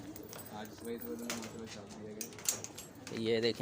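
Gola pigeons coo in soft, repeated phrases on a rooftop in Ancholi, close by and partly under a voice speaking in Hindi.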